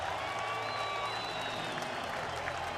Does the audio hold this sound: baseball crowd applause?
yes